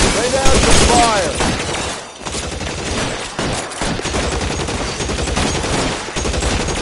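Dense, continuous gunfire from a PS4 video game battle, with overlapping bursts and rapid volleys roaring loudly throughout, briefly dipping in intensity, with faint voices mixed in.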